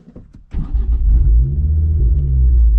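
A Ford Focus RS Mk2 with a Collins Performance CP420 upgrade cranks and catches, then settles into a loud, deep rumbling idle with a slight rev, close by.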